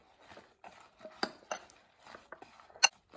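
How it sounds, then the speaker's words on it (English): Brussels sprouts are tossed with oil, salt and sambar powder in a bowl. Close, quiet clinks and scrapes of a utensil against the bowl come in short irregular bursts. "we're going to toss this really well so it gets nicely coated"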